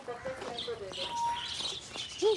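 Small birds at a pet farm chirp and tweet close by while pecking grains from people's hands, with short bright calls scattered over a soft background and a brief louder chirp near the end.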